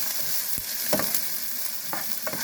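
Onions frying hot in a pan while being stirred, a steady close sizzle broken by a few sharp scrapes and knocks of the spoon; no one speaks.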